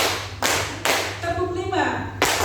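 Rhythmic group clapping in a room full of seated adults during a teacher training session: loud broadband claps in a counted pattern, with chanting voices between them.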